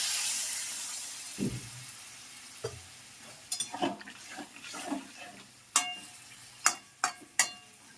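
Hot water poured into a simmering vegetable curry with potato, eggplant, pumpkin and drumstick in a pan, giving a brief gush followed by soft bubbling and a series of sharp clinks and scrapes from the pan.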